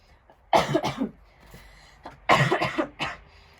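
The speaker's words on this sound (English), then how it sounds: "Sorry for the coughs." Two short bursts of coughing, each a quick cluster of harsh coughs, separated by a quiet pause; close and moderately loud.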